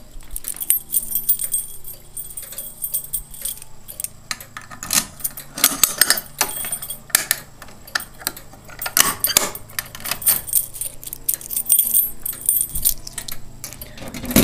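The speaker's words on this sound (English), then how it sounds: "You can hear the relays clicking." Relays in a fire alarm panel click during a system test, giving dense, irregular bursts of sharp metallic ticks and chatter that keep going for about fifteen seconds, close and fairly loud.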